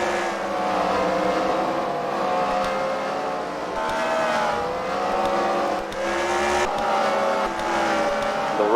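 Race cars in a heat race at the Freedom Factory, including a wrecker car, drone steadily with engines revving and shifting pitch, heard at a middle distance throughout.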